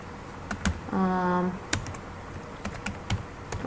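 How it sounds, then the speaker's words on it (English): Computer keyboard keys clicking in scattered bursts during a school HTML coding lesson, with a brief hummed voice sound near the start and irregular close taps after. "Inside body I want to type something like"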